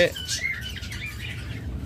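Costly mutation pet birds in cages give a short burst of high chirps and tweets, near and clear over low background hum.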